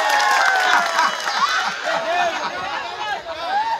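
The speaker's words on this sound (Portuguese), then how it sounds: "Palmas pro gringo internacional." Festive party crowd cheering and clapping together, a dense continuous roar of voices with whoops and applause that holds steady and loud throughout, without pause.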